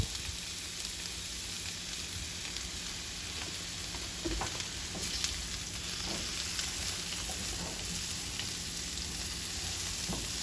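Jackfruit fries in freshly added oil in a pan, giving a continuous dense sizzle with scattered pops and crackles at moderate loudness.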